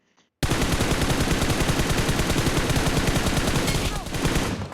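MG3 machine gun blasting in BGMI, a loud unbroken stream of rapid automatic fire at close range lasting several seconds, starting abruptly after a brief quiet moment.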